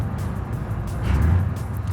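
Vehicles race past in the BeamNG driving game, a loud low engine and road rumble that swells to a peak midway as they go by, then eases off.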